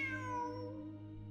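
A single drawn-out meow from a cat in the video game Genshin Impact, a clear tonal call that slides gently downward, close and clean with no talk.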